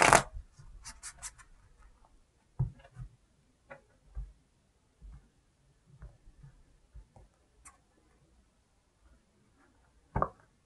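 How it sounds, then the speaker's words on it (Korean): Tarot cards are shuffled by hand, with a brief burst of riffling at the start and then scattered soft taps and rustles that grow sparse before one last short flick. "카드 셔플을 아까 했지만 한 번 더 하고요"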